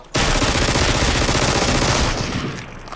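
A loud, continuous burst of rapid automatic gunfire in the battle royale game Super People, about two seconds of dense shots starting abruptly, then trailing off into echo.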